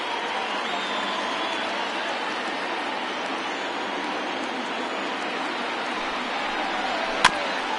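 Simulated baseball stadium crowd in MLB The Show 20, Brewers at Phillies, a steady broadband murmur of a thinned afternoon crowd rising to its feet, with a sharp click near the end.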